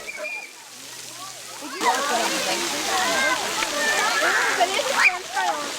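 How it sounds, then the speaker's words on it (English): A tree-shaped trick fountain at Peterhof in St Petersburg sprays water from its branches, making a constant splashing hiss that rises partway through, with people talking nearby over the spray. "here's a trick fountain that looks like a tree, with branches shooting out spouts of water"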